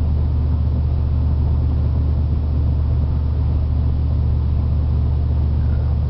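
Wood gasifier-powered vehicle engine cruising in overdrive at about three-quarter throttle, a steady loud low drone and rumble that holds even throughout, with no talk over it.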